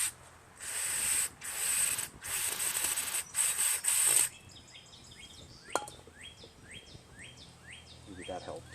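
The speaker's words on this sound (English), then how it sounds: "Maybe we just blow some carb cleaner in here, or this cleaner, it'll clear it out a little bit." Carburetor cleaner is sprayed into the carburetor of a Craftsman lawn mower with a 6.5 HP Briggs engine: several close, short bursts of loud hissing spray, then quiet outdoor air with birds chirping repeatedly.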